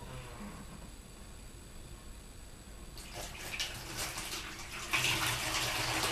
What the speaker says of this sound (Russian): Для начала я немного налью воды в бутылку